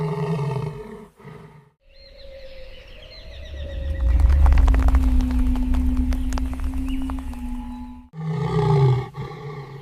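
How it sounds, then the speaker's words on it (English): A male lion facing a hyena clan on the savanna gives deep, drawn-out roars, loud and close, with a long rumbling middle stretch and short bursts at either end. "The king roars a terrifying, deep warning."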